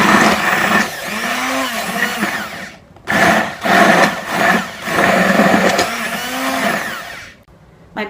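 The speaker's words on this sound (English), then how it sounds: "I'm going to take an immersion blender and I'm just going to blend this for a little bit" An immersion blender whirs through egg yolks and a shallot reduction for béarnaise sauce, a loud, close motor buzz in several bursts with brief stops and shifts in pitch as the blades work the mixture.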